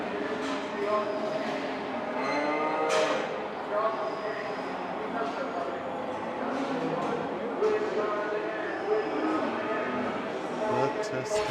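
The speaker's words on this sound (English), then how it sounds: "Various cows and calves." Cattle moo and calves call amid a busy cattle auction crowd, the animal sounds blending into steady murmuring talk and barn noise throughout, with some louder calls standing out.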